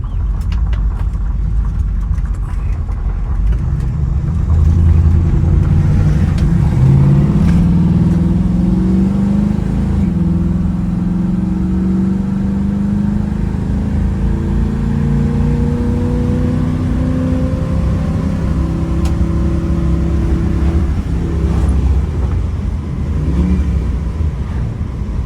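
A 1966 Chevrolet Nova Chevy II with a 327 V8 runs close by, its loud, steady idle rising in a slow rev midway before settling back, with no one talking.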